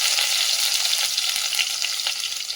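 Garlic ginger paste frying in a hot pan with mustard seeds, cumin and green chillies, a steady close broadband sizzle with bursts of crackle and spatter throughout, no voices.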